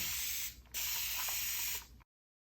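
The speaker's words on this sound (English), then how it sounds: "I'm going to tip this up and just do some spraying here" A steady hiss of liquid spraying in two bursts, with a short pause between them, close and fairly loud.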